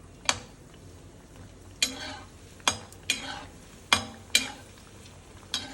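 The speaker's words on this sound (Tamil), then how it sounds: "அடுத்தது குழம்பு கருவடாம், சாம்பார் வடாம். அதை அது போடுறேன்." Kuzhambu karuvadam and sambar vadam being fried in oil, with sharp scrapes and clinks of a stirring spoon against the pan at irregular intervals over a faint steady sizzle.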